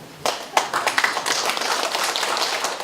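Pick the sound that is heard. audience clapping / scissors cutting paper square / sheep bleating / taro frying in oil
audience clapping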